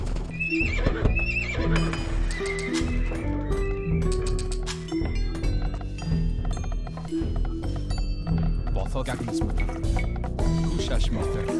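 Horses in the real-time strategy game Age of Empires 2 HD, with repeated whinnies and clip-clopping hooves over dense game music and effects, someone talking throughout.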